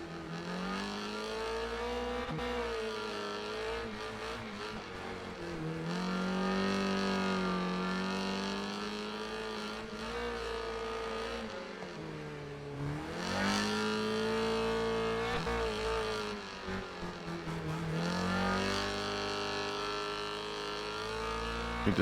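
Race car engines in the video game Wreckfest 2 during a lap, a continuous droning roar that repeatedly rises and drops in pitch through gear changes and braking, steady and fairly loud throughout.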